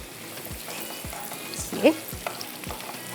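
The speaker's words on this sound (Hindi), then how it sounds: "तड़का हमारा तैयार हो रहा है।" Tarka for daal with green chillies sizzles steadily in hot oil, with small pops and spits breaking through and a brief word of speech over it.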